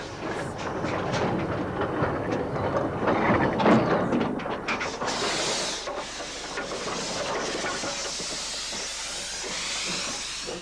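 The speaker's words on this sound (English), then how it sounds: "One of the 2 big Hudswell side tanks sets off from Wroxton on the 25-minute journey down to Banbury with a load of fulls." A big Hudswell side tank steam locomotive sets off from Wroxton on the Oxfordshire ironstone railway, hauling loaded wagons. Steady loud steam hissing and chuffing carry through, with rolling rail noise that thins out toward the end.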